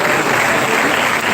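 Warm, sustained applause from an audience at a university professor's retirement ceremony, a dense even clapping that fills the whole moment without pause.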